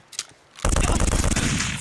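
Guns loaded with blanks fire in an action movie scene, a click followed by a loud, rapid burst of automatic fire with sharp, close reports that continue without pause.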